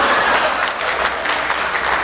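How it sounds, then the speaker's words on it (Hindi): A crowd at a Haryanvi poetry recital breaks into dense, sustained applause, loud and close, with steady clapping and no voices. "तालियां पूरी चाहिए साहब"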